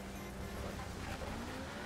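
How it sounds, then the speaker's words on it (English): A Honda Civic engine in the racing game Wreckfest drones steadily at a constant pitch for a couple of seconds, faint and mixed with the rumble of other race cars. "This Civic sounds as shit, man."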